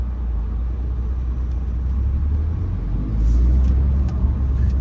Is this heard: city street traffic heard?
yes